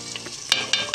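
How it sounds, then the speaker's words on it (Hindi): Minced meat (keema) frying with spices in a pan, a steady close sizzle broken by a few short scraping stirs. "अब हम इसमें अपना ये कीमा डाल दें।"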